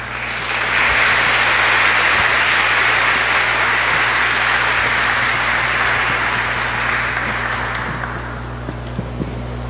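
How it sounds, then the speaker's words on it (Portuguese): A congregation at a religious profession ceremony claps together in a loud, dense roll of applause that swells early, holds, then thins out toward the end. "Vamos dar uma salva de palmas."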